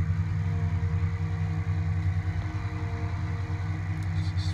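Steady low diesel drone of a John Deere 8235R tractor engine running in the field, a constant close rumble with a faint higher whine briefly surfacing near the end.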